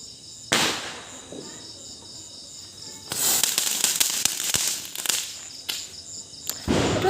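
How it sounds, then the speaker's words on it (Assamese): Small Diwali firecrackers burst in a few sharp cracks, one early and a cluster later with scattered crackling, heard close against a quiet outdoor background with insect chirps. "এইটো আচলতে ইমান বেছি মানে ধাম ধুম শব্দ নহয় চিটিকা বমৰ নিচিনা"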